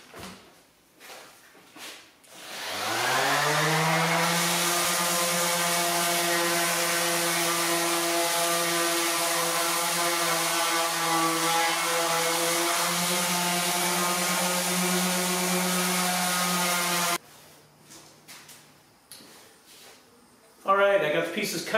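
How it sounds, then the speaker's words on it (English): A power sander works a wooden frame with sandpaper grits from 80 to 220. It spins up to a steady, loud, droning whir with a strong hum, runs for several seconds and then cuts out, with handling clatter before and after. "Yay, sanding."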